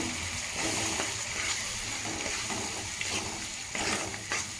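Water is poured into a spice mix for stuffed brinjal, a faint steady trickle and splash running throughout at low level.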